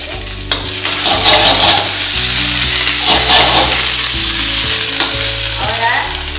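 Vegetables and seasoning paste sautéing in a hot pan while a regional dish is cooked, a loud steady sizzle with stirring scrapes all the way through and no voice.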